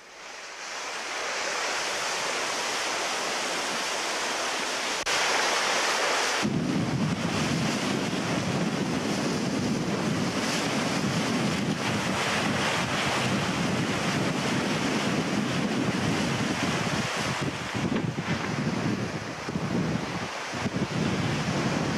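Ocean waves rush and break against the bow of an offshore yacht under way, a continuous loud wash of surf and spray with wind buffeting the microphone, steady throughout and no talking.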